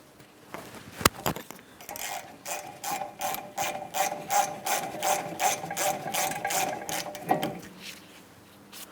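A ratchet removes the 18mm caliper bracket mounting bolt on the rear wheel hub of a 2008-2016 Chrysler Town & Country, giving a quick run of close, crisp clicks in a steady rhythm after a couple of opening knocks.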